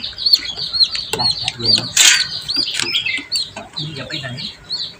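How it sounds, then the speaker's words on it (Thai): Baby chicks stuck in an oil drainage pipe chirp in rapid, repeated high peeps, close and fairly loud, with people talking and brief rustling sounds mixed in. "ภารกิจช่วยลูกไก่ตกลงไป ในท่อครับ ซึ่ง เป็นน้ำมันครับ"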